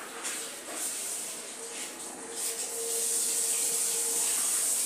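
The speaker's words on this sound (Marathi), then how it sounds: "मैद्यामध्ये आपण मैदा चाळून घेऊया" Maida flour is sifted through a sieve for dry momos, making a soft continuous rubbing and shaking hiss that grows steadier and slightly louder toward the end.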